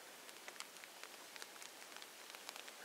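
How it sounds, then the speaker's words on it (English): Rain falling on a tent at a stealth camp, very faint dense patter of drops tapping the fabric in a close, continuous irregular rhythm. "It's raining."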